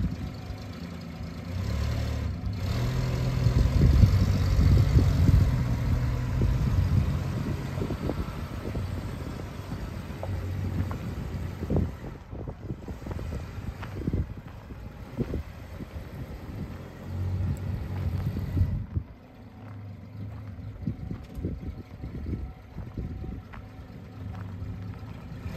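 A Holden HJ wagon on the move, its engine rumbling close and fairly loud from inside the car with fluctuating road noise, easing briefly near the end; no talk over it.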